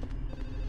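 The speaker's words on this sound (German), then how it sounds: "Was ist das für ein Telefon, das an jedem Ort in einem riesigen Apartmentgebäude gleich laut ist?" A telephone bell ringing in quick repeated trills in Silent Hill 4: The Room, fairly faint and steady, with no talking.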